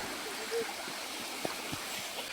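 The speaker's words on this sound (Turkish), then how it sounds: "Yeni bir su yolu daha keşfettik. Buradan böyle küçük küçük küçük küçük geliyor." A small stream of water trickles through a narrow channel in a forest near the Nideck waterfall, making a soft continuous rush with a few faint gurgles and no voices.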